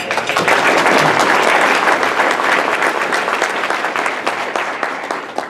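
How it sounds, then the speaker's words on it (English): Applause from an audience at a Rotary club meeting, a dense, loud burst of many hands clapping that holds steady and then gradually tapers off. "I think Dot deserves a round of applause"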